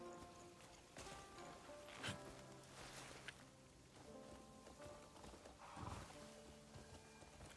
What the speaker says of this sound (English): It's my horse. There it is.